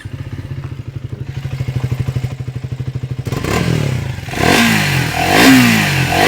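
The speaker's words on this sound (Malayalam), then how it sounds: "ഈ വാഹനത്തിൻ്റെ എക്സോസ്റ്റ് നോട്ട് ഞാനൊന്ന് കേൾപ്പിക്കാം." Triumph Speed 400 motorcycle, a 2026 model with a new 350cc engine, idling with a steady rapid thump, then revving up in rising, swelling bursts of exhaust note, close and loud with no talk.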